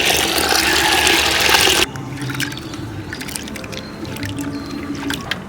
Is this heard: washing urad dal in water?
yes